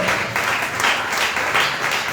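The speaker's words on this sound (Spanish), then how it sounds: "Bríndole un fuerte aplauso." A congregation at a sermon gives a strong round of applause, dense steady clapping that swells in waves throughout.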